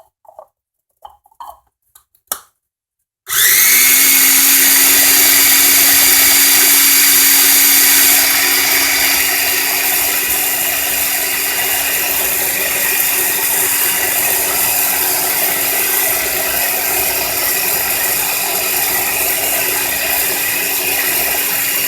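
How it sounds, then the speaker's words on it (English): A blender runs steadily and loudly for about nineteen seconds, whirring through a vegan, sugar-free chocolate pudding after a few faint clicks and taps at the start. "can see it gets smoother the more you blend it"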